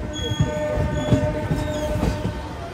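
A Kakinada Port to Visakhapatnam MEMU train runs along the track, its wheels beating a rhythmic clatter over rail joints beneath a steady rolling roar, heard close from on board.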